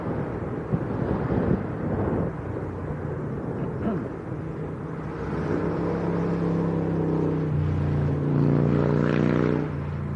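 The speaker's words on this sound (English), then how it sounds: "Lots of noisy cars and bikes been coming past as well" Cars and motorbikes pass on a windy day near Leeds Bradford Airport, a steady engine rumble under heavy wind buffeting that swells with a droning pass toward the end.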